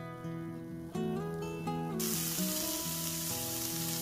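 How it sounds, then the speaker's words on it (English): Ground pork sizzles in a pan with Tex-Mex paste, a soft hiss under a steady melodic music track. "Cook your pork, breaking up the meat into pieces until browned"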